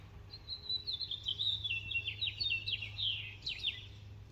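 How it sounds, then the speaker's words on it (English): Birds chirp outdoors in a quick, fluttering run of high twittering calls lasting several seconds over a low steady hum, fairly clear but not close. "can you hear the birds?"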